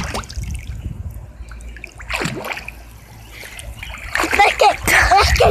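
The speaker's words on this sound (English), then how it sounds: "Don't splash." Children splash in a backyard pool, with sloshing and trickling water close to the microphone that grows into bursts of heavier splatter, while voices are heard at times.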